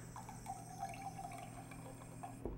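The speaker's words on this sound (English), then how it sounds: "I'm gonna put water just to this high." Water runs into a measuring cup while cooking, a steady trickling flow with small drips and splashes, moderately quiet and without speech.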